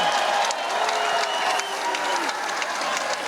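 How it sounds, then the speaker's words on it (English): A crowd at an MMA fight event applauds and cheers, a loud, continuous roar of clapping with shouts and whistles rising above it, while voices call out through the din. "Give him a round of applause, you guys."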